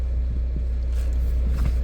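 A salvage auction car engine idling after starting, a steady low rumble close by with faint irregular knocks over the short stretch.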